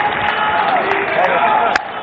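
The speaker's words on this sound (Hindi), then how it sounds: "सबके लिए मैं चाहूंगी जोरदार तालियां हों" A large crowd at a Delhi BJP government event applauds loudly and continuously, a thick wash of clapping and cheering with a few sharp peaks.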